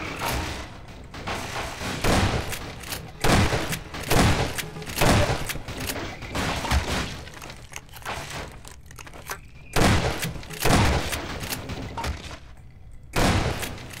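Shotgun blasts in Half-Life 2 Episode Two, a dozen or so loud, sharp booming shots spaced irregularly about one to two seconds apart, each with a short thudding tail.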